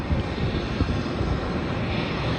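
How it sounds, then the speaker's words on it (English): A Jetstar Airbus A321 airliner arriving from Brisbane roars in to land, a dense, steady engine rumble with broad rushing noise, loud and continuous throughout. "That was Jetstar Airbus A321 from Brisbane."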